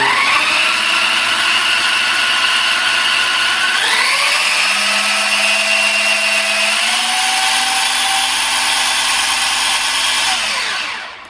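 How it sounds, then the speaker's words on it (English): A Traxxas Slash 4WD RC car with a brushless VXL motor revs on a stand, giving a loud, close, high-pitched whine. The pitch climbs in stages, holds steady, then spins down at the end, with no voices. "we have a, let's see, a Traxxas slash 4-wheel drive. I think it's like got a brushless VXL motor on it"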